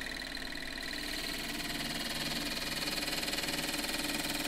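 A wood lathe turns a claret ash vase while a tool shears along it on edge, giving a steady, loud, close mechanical whir with a faint pulsing flutter and no talking.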